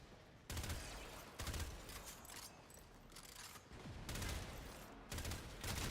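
Automatic weapon fire with recoil in a video game: several loud, rapid bursts of gunfire separated by short gaps, over a steady rumble of background game noise.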